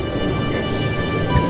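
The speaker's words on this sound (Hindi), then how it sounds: "इतनी तेज़ बारिश शुरू हो गई।" Heavy cartoon rain falls as a dense, steady hiss with a low rumble beneath it, loud and continuous through the short stretch, with no voices.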